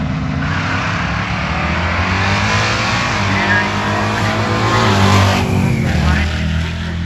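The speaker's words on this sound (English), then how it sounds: "Small block Ford power plant on board Binkley's Fox body Mustang." A small block Ford engine in a Fox body Mustang at a drag race, a loud continuous engine roar that swells and holds, under an announcer talking over the track.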